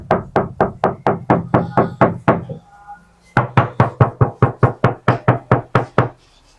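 Knuckles rap on the door panel of a Honda WR-V before any sound damping is fitted, two quick runs of about a dozen evenly spaced knocks separated by a short pause, close and sharp with a thin, hollow ring.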